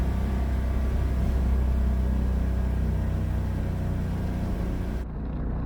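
A 1969 Renault powered by a 670cc Predator engine driving along, a steady low engine drone and rumble from inside the car that drops slightly just before the end, with no talking.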